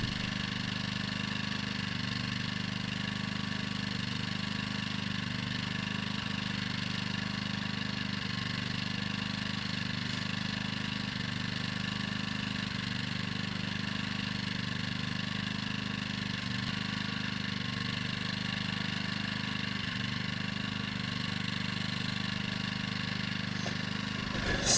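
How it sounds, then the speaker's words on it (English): A Firman 2000 watt generator runs in eco mode about 20 feet away, giving a steady, even engine hum with stable tonal harmonics, moderately faint and unchanging throughout with no talking. "That's the generator running 20 feet on eco."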